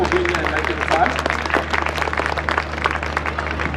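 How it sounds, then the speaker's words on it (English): Audience applause at a children's wellness campaign event, a dense steady patter of many hands clapping throughout, with a low hum and some crowd murmur underneath. "I would just like to just give them a round of applause"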